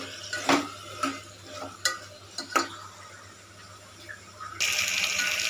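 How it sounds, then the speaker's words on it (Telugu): Mushrooms stir-fried on high flame with a spoon scraping and clinking against the pan in a few sharp strokes, then a louder burst of sizzling near the end. "మష్రూమ్స్ యాడ్ చేసి హై ఫ్లేమ్లో పెట్టి కలుపుకుంటూ ఒక్క టూ మినిట్స్ ఫ్రై చేసుకోవాలి"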